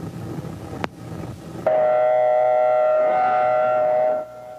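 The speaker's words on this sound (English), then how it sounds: "Air raid sirens were used to alert people, and a massive evacuation started." An air raid siren sounding an evacuation alert, a steady sustained wail rising abruptly after a few muffled thuds, holding loud and even for several seconds before cutting off, with no talking.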